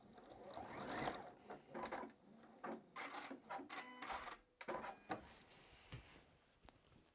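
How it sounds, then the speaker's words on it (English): A sewing machine back stitching to secure a seam on a fabric tote bag, quiet bursts of rapid mechanical whirring that start and stop repeatedly, close up with near silence between runs. "We're just going to back stitch to secure."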